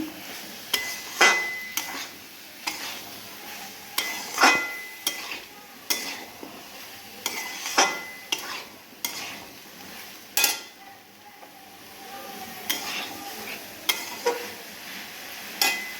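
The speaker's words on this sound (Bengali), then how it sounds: "এর মধ্যে এবার ঝিঙেগুলো দিয়ে ভালো করে মশলাটা মাখিয়ে নিলাম।" Ridge gourd being stirred and tossed through spice paste in a pan for a Bengali jhinge aloo posta, with repeated scraping, clinking strokes over a soft, steady sizzle.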